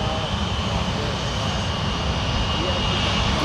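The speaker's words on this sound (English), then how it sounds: "And right now we have American Flight 2397 taking off for Charlotte," American Airlines jet taking off at Fort Lauderdale, a broad steady engine roar heard from the ground, loud and continuous over the whole stretch with speech present.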